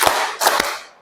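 A group of adults at a teacher training session claps on a counted cue, producing a few sharp, loud bursts of hand claps in quick succession that ring out and fade.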